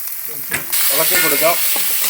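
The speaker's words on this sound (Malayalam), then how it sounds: "ഇനി നമുക്ക് ഒരു മീഡിയം സൈസ് സവോള ചെറുതായിട്ട് അരിഞ്ഞത് ഇട്ട് കൊടുക്കാം. ചെറുതായിട്ടൊന്ന് ഇളക്കി കൊടുക്കാം." Chopped medium-sized onion hits a hot pan for Kerala-style beef and cassava biryani, a loud steady sizzle rising and holding after a few soft stirring scrapes, close and continuous.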